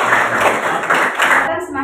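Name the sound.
applause for the group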